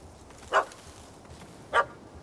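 A dog in the video game Witcher 3 gives two short, sharp barks about a second apart, moderately loud over a faint steady background, with no talking.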